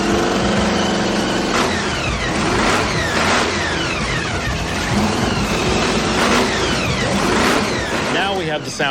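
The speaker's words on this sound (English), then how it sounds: "I'm expecting this engine to fire on the very first time" A 1934 car engine catches and revs, its loud, steady mechanical roar rising and falling through repeated throttle blips close by, with no pause after it fires.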